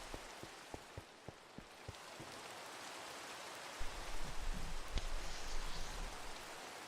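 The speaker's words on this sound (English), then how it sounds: "I should sleep to get rid of this, to stop the rain." Steady rain falls in the Minecraft game world, a dense hiss of rainfall with sharp droplet ticks early on and a heavier, rumbling patch of rain near the end.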